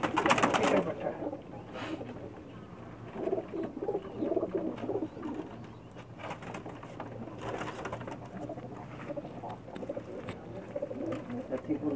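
Pigeons coo in a Pakistani loft in Sargodha, their low, soft calls repeating steadily across the stretch, with a faint voice talking now and then under them.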